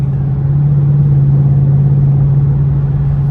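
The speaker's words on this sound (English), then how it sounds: "Exhaust sounds good." A Ford Mustang GT with a 10-speed automatic cruises in tenth gear, its exhaust a steady low, loud hum heard from inside the car with no talking.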